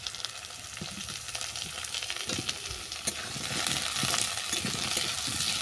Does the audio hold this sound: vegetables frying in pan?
yes